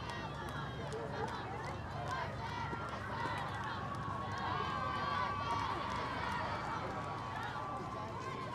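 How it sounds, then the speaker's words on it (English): Softball players of the Force shout and cheer on their teammates from the dugout at the Spirit of the Sandhills tournament, a steady, busy wash of indistinct voices over ambient field noise. "You can really hear the Force cheering on their teammates."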